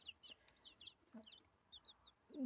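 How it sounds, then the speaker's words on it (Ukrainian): Chicks, some incubator-hatched and some bought, peep and cluck softly in short high-pitched bursts, repeated several times at a faint, moderate distance in a quiet setting. "Ось мої курчаточки."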